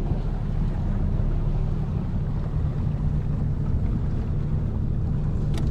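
A fishing boat's motor runs steadily at sea during a trolling trip, giving a loud, continuous low drone mixed with wind buffeting the microphone and no talking.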